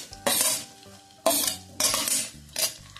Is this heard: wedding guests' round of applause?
no